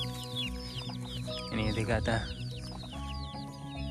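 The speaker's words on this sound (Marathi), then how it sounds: "चल देखो कोंबडे पूर्ण शेतात आल्यात" Chickens cluck repeatedly across a village farm field, near and fairly loud, while a person talks over the flock.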